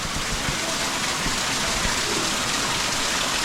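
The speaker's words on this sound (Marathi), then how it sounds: "खूप पाऊस जोरात आला आहे" Dense, steady monsoon rain in Konkan roars without pause, a broad hiss of water pouring down, close and loud with no voices.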